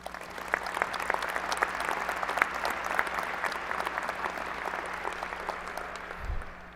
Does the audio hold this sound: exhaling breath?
no